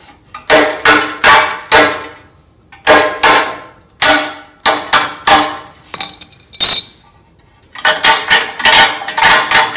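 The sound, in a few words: adjustable hammer striking metal on a lawn mower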